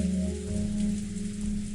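Steady rain falls as a soft, continuous wash beneath a low hum, fairly quiet and unchanging, with no talking.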